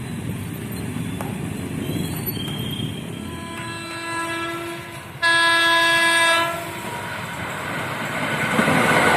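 A long Indonesian passenger train rumbles steadily past, its horn sounding in a couple of sustained harmonic blasts, the second louder and closer, over continuous rail noise with no voices.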